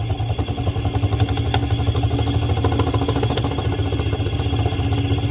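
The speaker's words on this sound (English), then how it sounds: "I'm going to feed more current into the motor." A simple homemade electric motor spins faster as more current is fed in, a steady close rattling whir with a rapid, even pulsing that carries on throughout.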